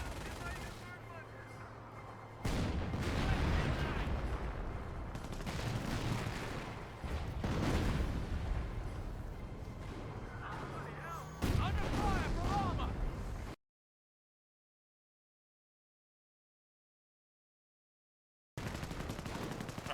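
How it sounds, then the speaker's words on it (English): Company of Heroes battle audio with 25-pounder artillery and heavy gunfire, dense rumbling blasts and rapid firing mixed with in-game chatter, breaking off into a few seconds of silence before resuming. "now we're going to show off the artillery a little bit"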